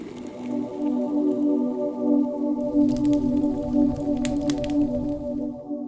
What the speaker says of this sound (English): This is how it looks inside our electric kettle when water is boiling.